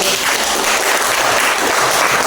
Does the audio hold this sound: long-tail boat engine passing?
no